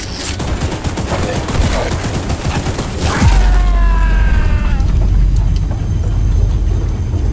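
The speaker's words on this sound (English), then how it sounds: "Get the gun! Light him up! Light him up! Careful! Don't let the gun overheat!" Rapid bursts of gunfire from a train-mounted gun in a horror train game, loud and dense for about three seconds, then a low rumbling boom and rising mechanical whine as the firing stops.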